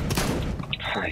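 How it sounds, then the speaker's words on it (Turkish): Gunfire from the video game CS:GO, a dense burst of rapid shots filling the clip with broad crackling energy, with speech-like sound mixed in under the shots. "Silah sesi yapayım da belki açılırım."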